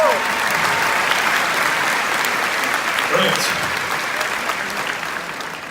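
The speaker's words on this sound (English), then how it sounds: "one more round of applause for your family" Large audience at a Scentsy family reunion event gives a round of applause for their families, sustained dense clapping that slowly fades, with a brief spoken word over it.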